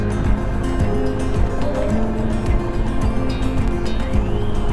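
A motorbike climbs steep, narrow lanes, its engine droning close and loud with rising and falling pitch as it works through gear changes, with wind rushing over the mic throughout.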